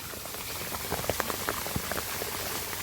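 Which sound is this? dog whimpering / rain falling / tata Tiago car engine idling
rain falling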